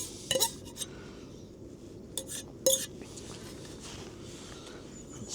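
Food being mixed in a camping pot on a Norfolk Broads canoe trip, with a few faint metallic clinks and scrapes of a utensil against the pot over a quiet outdoor background.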